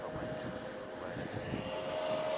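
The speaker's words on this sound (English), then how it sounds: "Is that a plane right here?" Airplane at JFK International Airport near the TWA Hotel, a steady broad jet roar with a faint whine, continuous and moderately loud throughout with no talk.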